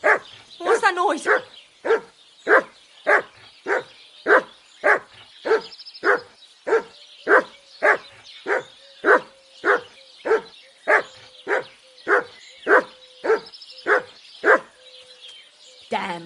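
A dog in Kingdom Come: Deliverance 2 barks over and over in a steady, evenly spaced rhythm, loud and close, with a voice briefly at the start and a faint continuous tone under the later barks.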